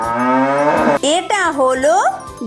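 A cow moos loudly and close in a series of rising, wavering calls, one long low bellow followed by several shorter bends in pitch, with a voice speaking briefly over it.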